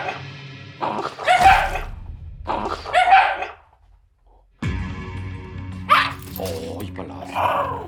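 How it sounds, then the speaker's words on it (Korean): A dog growls and vocalises in bursts after being given a treat, as a bare hand is brought close to it, with people talking over and between the sounds. "지금 간식을 하나 준 이후에 손을 이렇게 갖다 대니까 으르렁합니다."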